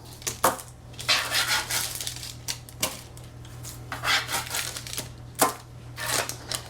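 A fish spatula scrapes and clacks against a pan while fries are turned over, giving a run of sharp metallic knocks and scraping strokes in uneven bursts, close and fairly loud, with no talking.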